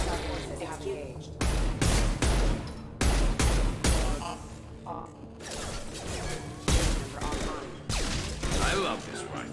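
Rifle fire in the sci-fi shooter Mass Effect 2: loud bursts of rapid shots in several volleys, broken by short pauses, with mechanical clatter and combat voices over the top.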